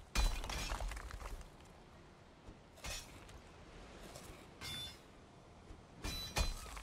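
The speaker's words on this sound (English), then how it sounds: "I just smashed one of the egg-tier pickaxes by digging" A pickaxe breaks while digging in the video game Valheim, heard as several sharp bursts of crunching and shattering separated by quiet gaps, the loudest at the start and near the end.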